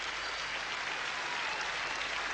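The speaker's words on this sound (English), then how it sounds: "warm applause from the West Indians" Steady applause from a cricket crowd at a 1984 Australia versus West Indies Test match, greeting David Boone's half-century; broad, even clapping, moderately distant, with no voices standing out.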